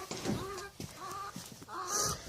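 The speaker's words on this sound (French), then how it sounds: "Donc bonjour la poule." A hen kept in a home flock clucks up close in a few short bursts, with soft quiet gaps between calls.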